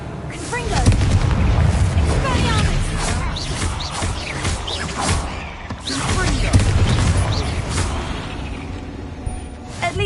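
Confringo blasting spell in the Hogwarts Legacy video game, a rush of crackling explosive bursts and booming impacts in a stone tomb, loud and chaotic with a second surge midway, mixed with voices and combat effects.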